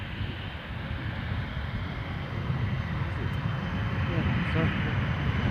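An Embraer jet departing from Edinburgh Airport, its engine roar a broad steady rumble that swells gradually louder, with no voices over it.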